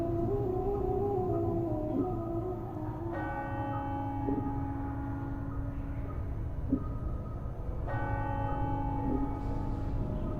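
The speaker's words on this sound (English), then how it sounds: "Was that going on before, that bell?" A bell in Planescape: Torment tolls steadily and resonantly, its strikes repeating every couple of seconds as a sustained ringing tone hangs beneath, heard alone at moderate volume.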